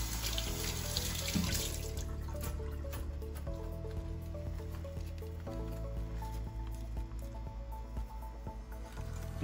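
Roasting blend for oven-roasted lechon pork belly being rinsed under a running kitchen tap, water splashing steadily into the sink with occasional squishy handling noises throughout, close and continuous.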